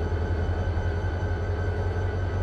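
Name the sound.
train running in the Run8 V2 train simulator video game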